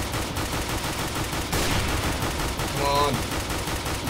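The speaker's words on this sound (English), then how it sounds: "Missing every one of my shots, great." Gunfire in Counter-Strike: Global Offensive, dense rapid shots forming a continuous loud barrage throughout, with a player briefly speaking over it.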